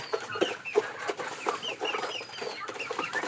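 Domestic chickens and turkeys cluck repeatedly while feeding, giving close, irregular calls with short pauses between them.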